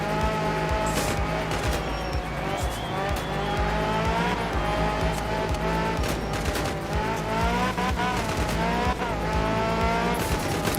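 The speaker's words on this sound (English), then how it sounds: "the engine note of this thing's a little bit less impressive" A Group A rally car in the Art of Rally video game drives hard, its engine droning loud and steady throughout with sharp pops, crackles and tire noise scattered across the run.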